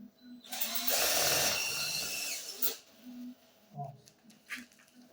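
A power drill whines steadily for a couple of seconds as it bores into an aerated concrete block, then stops, followed by a few light clicks and knocks.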